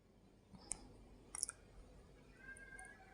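A computer mouse clicks on an install button: a single sharp click, then a quick double click a moment later, crisp and close in a quiet room.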